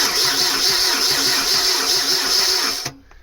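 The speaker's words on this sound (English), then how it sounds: "we've established that the starter motor definitely works" Starter motor cranking the 1.6 engine of a long-unused Vauxhall Astra Mk3 LS saloon, a steady rapid whirring churn lasting about three seconds, close and loud, then cutting off abruptly.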